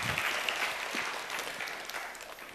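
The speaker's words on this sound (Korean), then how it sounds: "다시 한번 뜨거운 박수로 부탁드립니다." A congregation at a Korean church youth service claps together in dense, sustained applause, an even wash of hand claps filling the room at moderate volume.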